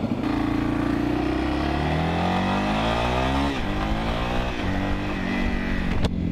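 A 1992 Yamaha Serow 225 motorcycle rides along a road, its small single-cylinder engine droning loud and close with rising pitch through the gears and wind rush throughout.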